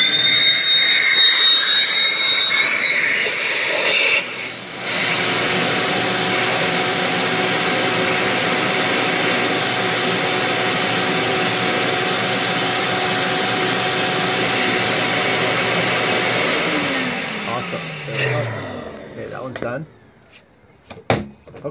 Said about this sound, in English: let's go and hit with the vacuum again and then call it it for that one.